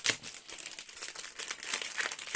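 A plastic packet of 3D foam strips is unwrapped up close, giving a brief burst of crinkling and rustling.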